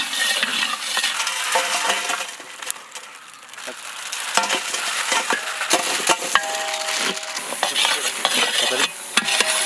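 Onions sizzling in hot oil with a bright, crackling hiss that swells and dips as they are stirred, scattered metallic clinks of a spoon against the pan, close and without talk.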